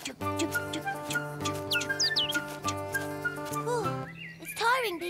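A cartoon bird chirps in short, rising and falling tweets over light background music, with a few more chirps near the end.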